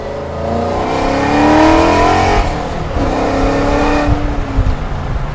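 A 1982 Ford Mustang Fox body with a swapped-in Coyote engine revs up and accelerates hard, its pitch climbing, then shifts and pulls again, loud and close with no talking.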